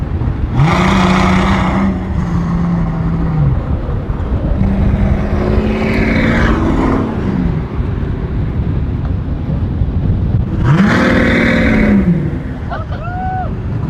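The one-off Mercedes Exelero blasts down a private airport runway, its engine heard from inside the cabin revving loudly in repeated rising bursts with gear changes, near and powerful, with wind rush and a voice talking over it.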